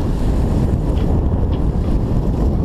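Strong wind buffets the microphone aboard a sailboat on Lake Erie: a loud, constant roar with low rumbling gusts and a faint wash of water, no voices.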